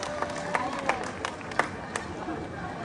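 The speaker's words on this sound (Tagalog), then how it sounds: "Palakpakan naman po kayo" Scattered, fairly faint clapping from a small audience at a gay pageant's national costume segment, a few sharp claps standing out over a low murmur of voices.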